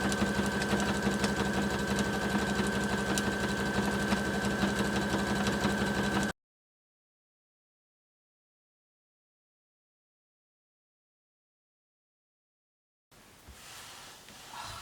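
Sewing machine zigzag stitching through quilted homemade fabric, a steady close mechanical whir with a constant hum that runs for about six seconds, stops in silence, then resumes more softly near the end.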